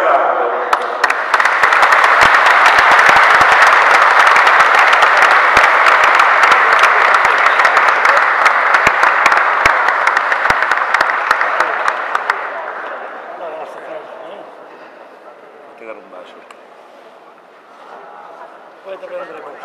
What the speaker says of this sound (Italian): Io penso che sia giusto iniziare con un applauso